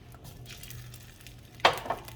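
Bacon frying in olive oil in a hot skillet, a faint steady sizzle with a sharp scrape or clatter of a pan utensil near the end.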